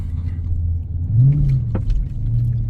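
A 2023 Dodge Charger Scat Pack Widebody engine rumbles close by, revving up in a rising whine, dropping back, then revving again over a steady low idle, at night.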